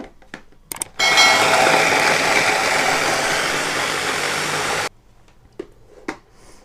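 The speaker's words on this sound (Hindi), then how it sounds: "और अदरक को भी ग्राइंड कर देंगे।" An electric kitchen grinder grinds ginger and chillies for mint sauce, giving a loud, steady motor whir for about four seconds, with a few brief clicks and knocks before and after it and no talking.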